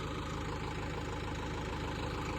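A steady, rumbling tractor engine idles nearby in a berseem field, its low throb continuous and even throughout with no voices.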